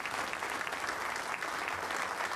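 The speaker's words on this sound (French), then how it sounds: "Avec les applaudissements du couple royal." Sustained applause from a crowd greeting the royal couple at the Belgian national day parade, a steady dense wash of clapping holding at even loudness throughout, fairly distant, with no talk over it.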